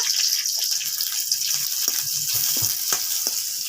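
Chopped garlic and whole cumin seeds fry in hot oil for Bengali-style dal, a loud constant sizzle with scraping stirs of a spatula in the pan.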